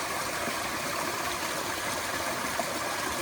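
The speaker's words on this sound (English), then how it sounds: "just the flow of water" Steady, even rush of flowing water from a stream in a park after a hurricane, continuous and fairly close, with no voices.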